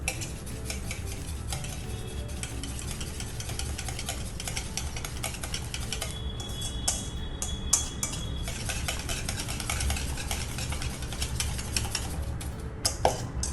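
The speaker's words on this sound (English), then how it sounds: "Next, we are gonna beat our eggs." Eggs are beaten in a bowl with a utensil, giving a fast continuous clatter and scrape against the bowl that runs for several seconds, close and fairly loud, with no talking.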